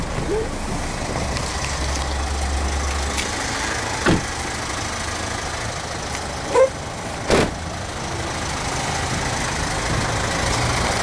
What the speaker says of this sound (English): you just basically press the button to start the car